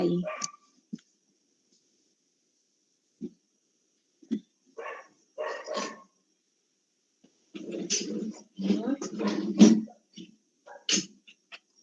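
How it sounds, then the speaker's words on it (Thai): A dog barks outdoors in scattered bursts, some short single yaps and a longer run of barks toward the end, fairly close but filtered as if through a window, with quiet gaps between. "หมามันก็คงอารมณ์ดีอยากออกมาเห่า"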